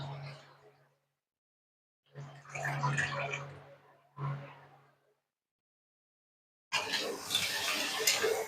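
Water is poured into a pan of Bengali crab curry (kakrar jhal). Short splashy bursts with a voice mixed in come first, then a steady, fuller pour near the end.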